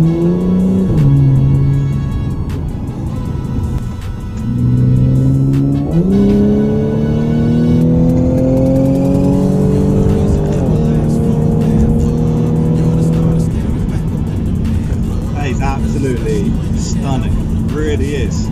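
Audi S5 Black Edition with 410 bhp accelerating hard, engine note climbing through the gears in repeated rising sweeps heard from inside the cabin, loud and continuous, with brief dips at each shift.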